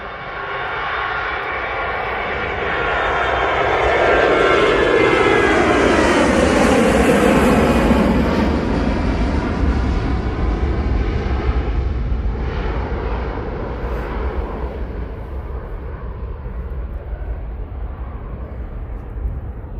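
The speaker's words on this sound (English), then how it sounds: "It's just a standard A321." A passenger jet, an Airbus A321 at Manchester Airport, roars with a loud, sustained engine rumble and whine. The sound swells to a peak midway as the aircraft passes, then slowly fades.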